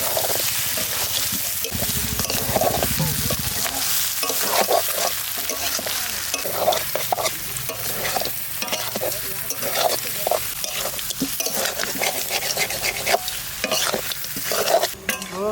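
Duck meat stir-fried in a pan, with a steady close sizzle broken by repeated scraping and stirring strokes of a spoon against the pan, a voice occasionally speaking over it.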